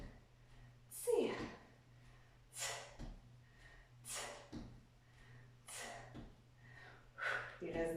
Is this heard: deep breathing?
yes